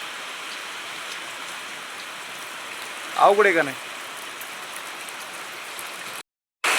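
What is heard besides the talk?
morning rain falling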